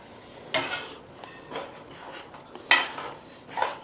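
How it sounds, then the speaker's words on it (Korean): A spoon stirs a pot of spicy braised chicken (dak-doritang), giving a few soft, scattered metallic clinks and scrapes against the pot at close range over a quiet background. "한번 저어주세요"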